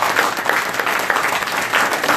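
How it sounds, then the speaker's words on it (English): Audience clapping at a boxing post-fight press conference, a brief burst of steady, fairly loud applause from a room of people, continuous for its whole short length. "if y'all want to give him a hand clap, I would love that"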